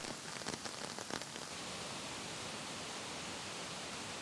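Heavy winter rain falling in a steep wooded canyon of the Bear Creek watershed, a dense steady hiss with a few brief louder splashes at the start, then an even rushing wash.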